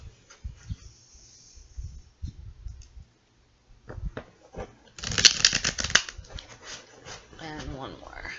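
Tarot cards being shuffled by hand in quick papery riffles and clicks, a brief louder burst midway, with a voice talking quietly between the shuffles.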